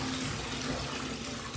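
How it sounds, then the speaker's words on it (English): Water gushing from a bathtub tap while filling an ice bath, a steady, close, unbroken rush with no voices. "I'm gonna stop the water now, I'm getting it. Oh, stop you stupid tap."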